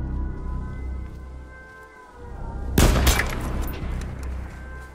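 A single sharp sniper rifle shot rings out in a video game, a sudden loud crack with a lingering tail, rising from a quieter bed of low engine-like hum and background game ambience.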